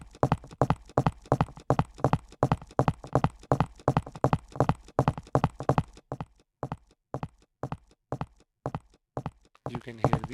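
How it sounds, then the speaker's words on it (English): Footsteps of a walking guard character in a Unity third-person shooter game: a fast, steady run of close, crisp steps, evenly spaced and loud, thinning to sparser, more separated footfalls during the second half. "You can hear the footstep sounds."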